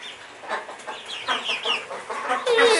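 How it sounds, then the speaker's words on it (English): A hen clucks repeatedly at close range in short, uneven bursts, with a louder squawk near the end. "Hey, Mrs. Chicken."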